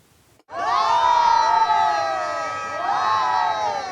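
A crowd cheers a sailor arriving at Les Sables d'Olonne. After a brief hush, loud, sustained cheering and high whoops burst out and swell again near the end.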